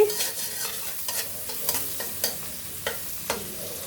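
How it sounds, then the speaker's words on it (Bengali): Onion fries in a pan with a soft continuous sizzle, broken by a series of sharp scraping stirs from a spoon at roughly half-second intervals, close and clear with no talking. "দিয়ে দিলাম পেঁয়াজ পেঁয়াজটা ভেজে নিচ্ছি"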